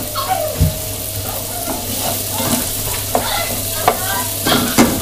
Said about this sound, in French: dans la casserole avec l'huile d'olive, j'ai mis l'oignon, l'ail et je vais faire revenir un petit peu tout ça